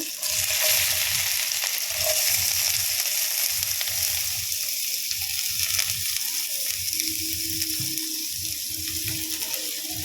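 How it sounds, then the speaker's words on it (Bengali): Onions fry in a pan with a broad, constant sizzle, while low rhythmic scraping or stirring pulses sit beneath it throughout. "পেঁয়াজটা আমি লাল করে ভেজে নেব একটু হালকা করে"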